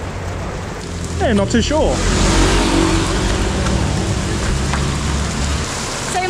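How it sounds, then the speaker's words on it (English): Heavy tropical rain pours down in Ubud, Bali, as a loud, steady broadband roar filling the whole stretch, with brief voices speaking near the start. "It's very heavy tropical rain."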